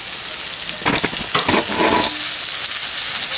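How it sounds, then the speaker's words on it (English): Venison shanks hitting a hot cast iron pan, a loud close sizzle rising as the meat lands, with a few scraping bursts in the first half before the frying settles into a steady hiss. "Alright, our pan is nice and hot and we're adding our shanks in there just so we can get them all nice and brown."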